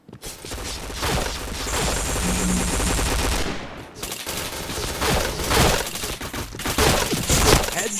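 Rapid automatic gunfire in a shooting video game, dense sustained bursts filling most of the clip with a brief gap near the middle before firing resumes, loud and close.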